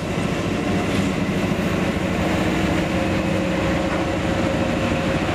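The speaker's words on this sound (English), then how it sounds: "the train is now being switched to a different track so it can head off to the main line" A train being switched onto a different track at a locomotive depot in Kraków, Poland, giving a loud, steady rumble of rail cars with rhythmic wheel clatter close by and no talking.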